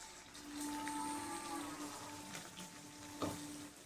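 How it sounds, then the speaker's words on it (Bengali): Soft, steady sizzling of fritters frying in oil, quiet and close, with a faint hum and a small clink near the end. "এই ছোট ছোট আকারে বড়াগুলো ভাজছি"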